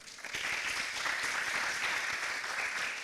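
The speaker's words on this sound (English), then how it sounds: "Could we have another round of applause?" A round of applause from an audience at a lecture session, dense and steady clapping that carries on evenly throughout at moderate loudness.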